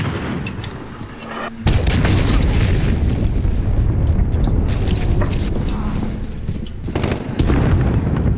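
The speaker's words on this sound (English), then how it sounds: "Cruise missile incoming!" A cruise missile strike explodes in a Call of Duty: Modern Warfare free-for-all match, a loud booming blast followed by sustained rumbling and crackling debris.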